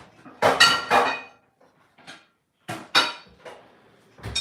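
A cast iron pan clanks and scrapes as it goes onto a lowered oven rack in a home kitchen, with several distinct metallic knocks and rattles close by, the last one louder.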